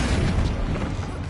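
Confringo fire-blast spell cast in Hogwarts Legacy, a dense rumbling boom that fills the whole short moment, heavy and loud with no pause or separate hits.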